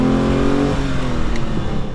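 A 1970 Ferrari Dino 246 with its 2.4-liter V6 and three Weber carburetors accelerates hard, the engine note rising and shifting in pitch as the revs climb, loud and close.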